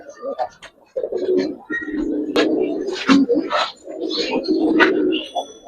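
Several Giribaz pigeons coo in soft, repeated throaty phrases close by, mixed with someone speaking and a few brief chirps; the calls come in uneven bursts throughout.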